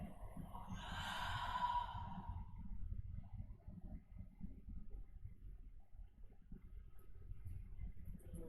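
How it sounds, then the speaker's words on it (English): A soft, long exhale during a gentle yoga flow, a breathy airy rush lasting about two seconds near the start before fading into quiet low room noise. "Find a full, complete inhale. Soft, long exhale."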